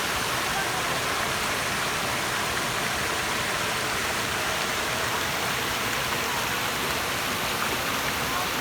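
Palaypay Falls in Pamplona, Negros Oriental pours with a loud, continuous broadband rush of falling water, steady and close throughout without pause.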